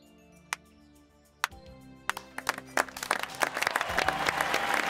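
Cartoon clapping from a character in a tennis doubles match: a few isolated, sharp claps, then a faster, denser patter of claps that builds and grows louder toward the end, with no talk over it.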